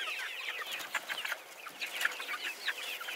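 Meat broiler chickens in a chicken tractor cluck busily while eating fermented feed, a flock of short, overlapping clucks and chirps at close range.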